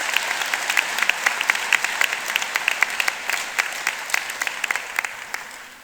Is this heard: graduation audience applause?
yes